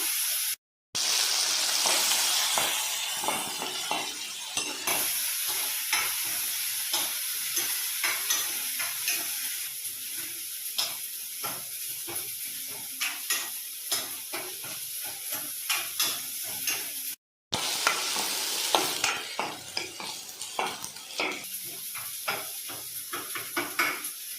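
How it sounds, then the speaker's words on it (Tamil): Tomato, onion and garlic sautéing in oil for a South Indian fish curry: a steady frying sizzle and hiss, broken by frequent stirring scrapes and knocks of a utensil against the pan, with no talking. "போட்ட தக்காளி வெங்காயம் பூண்டு எல்லாமே அந்த எண்ணெயில நல்லா வதங்கி வந்துச்சு"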